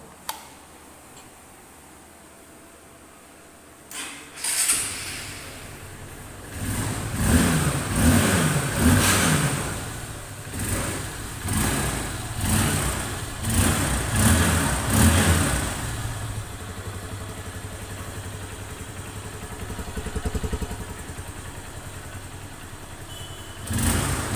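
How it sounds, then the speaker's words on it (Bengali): A black Honda CB Trigger 150cc motorcycle starts after a few quiet seconds, then its engine idles and revs repeatedly, loud and close, with no one speaking. "তাহলে চলুন বাইকটির সাউন্ড কোয়ালিটি দেখি বাইকটির সাউন্ড কোয়ালিটি কীরকম"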